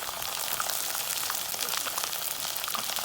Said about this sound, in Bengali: তেল গরম হলে পেঁয়াজ কুচি দিয়ে তা ভেজে নিলাম